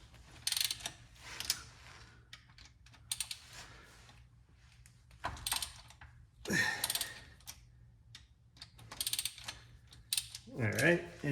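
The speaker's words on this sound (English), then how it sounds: "We're gonna go ahead and break our bolts loose." Ratcheting clicks and metallic mechanical rattles come from a wrench breaking loose the oil pump cap bolts on a Honda S2000 engine during rod bearing work, in irregular bursts close up.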